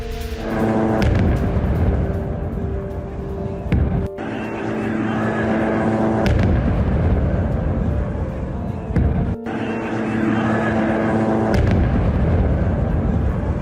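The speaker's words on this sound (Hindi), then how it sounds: "रिहायशी इलाकों के नजदीक धमाके की तस्वीर देखिए।" Heavy blasts from a bombardment near residential areas rumble out in repeated waves, with sharp concussive hits around the start and middle over a constant roar, no speech.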